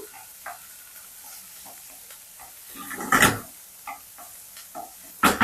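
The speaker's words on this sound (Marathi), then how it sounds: "हे परतताना सगळं हाय हीट वर परतायचं आहे" Tomatoes stir-frying over high heat in a pan, a soft steady sizzle with light stirring scrapes that swell into two louder bursts of clatter and sizzle near the middle and the end.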